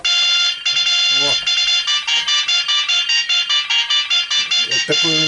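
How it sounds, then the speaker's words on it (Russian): A loud electronic alarm clock rings at 4 a.m. during a taiga camping trip, a bright pulsing melodic beeping repeating rapidly and steadily, with brief voices talking underneath. "Это такой у меня будильник."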